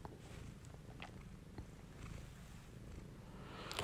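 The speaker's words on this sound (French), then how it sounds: "et le ronronnement du chat." Soft, continuous purring from a cat, faint and close, with a gentle rhythmic rumble and a few small clicks.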